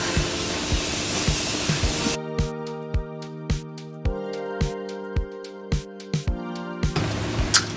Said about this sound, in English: Use my Morphe setting spray to set my entire face.